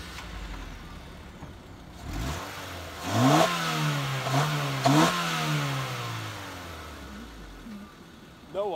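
A car engine in a combustion reaction demonstration, heard as a rough idle that rises in a couple of revs with climbing pitch, then settles back and winds down.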